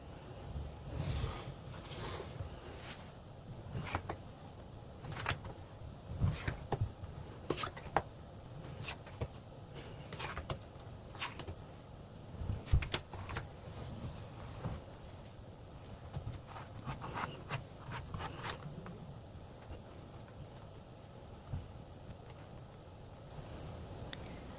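Tarot cards shuffled and drawn on a table, a series of soft crisp snaps and riffles, close and fairly quiet, spaced out irregularly with a few faint thumps.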